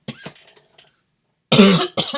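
A short cough, a pause, then a loud burst of harsh coughs near the mic, followed by another quick cough.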